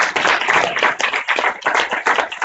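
Audience applause arrives as a dense, close patter of clapping hands with a few brief dips and swells across the short stretch, no voices over it.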